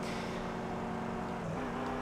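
A steady video game car engine drone with sustained tones, its pitch dipping briefly then settling higher as the RPM is adjusted, like a revving motor running continuously.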